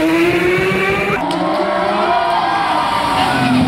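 V12 engine exhaust screaming loudly at high revs, a sustained wailing note that shifts pitch as gears change, with faint crowd noise beneath.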